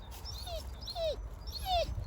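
A dog whimpers three times, thin high descending whines spaced about half a second apart, fairly close and soft.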